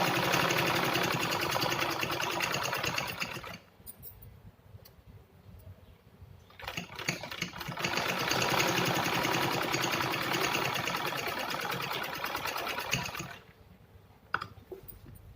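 Sewing machine stitching a strip onto a fabric organizer made from scrap cloth, two long runs of steady rapid clatter separated by a quiet pause, then a short final burst.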